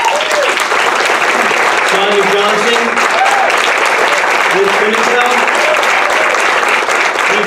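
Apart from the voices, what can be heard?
audience applause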